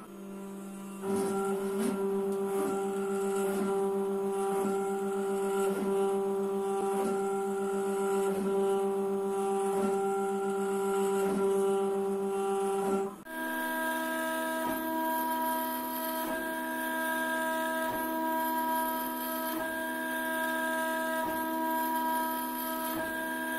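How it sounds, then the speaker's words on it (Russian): A Watson A1-6090 CNC milling router engraves oak with a steady, loud whining drone overlaid with regular rhythmic ticks, its pitch shifting abruptly partway through as the machine changes motion; no one speaks. "это фрезерный ЧПУ Watson A1-6090. Сейчас запускаю программу и будем вырезать."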